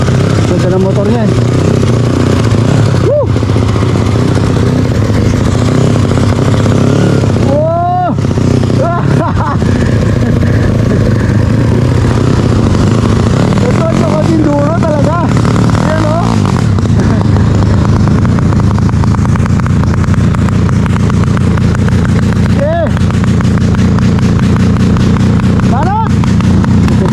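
An enduro motorcycle idles on a muddy trail at Mt. Marami, its steady engine drone continuing throughout while several people talk loudly nearby.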